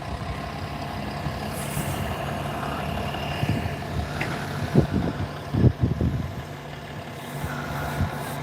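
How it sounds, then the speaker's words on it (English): A Scania bus engine idles steadily before departure, a low continuous rumble close by with a few heavier throbbing bursts partway through. "I think the Scania is getting ready to go, judging by the sound of things."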